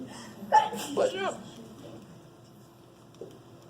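A single sharp sneeze bursts out near the mic during a math lecture, followed by a quieter second burst, over soft background hum and a faint sound later.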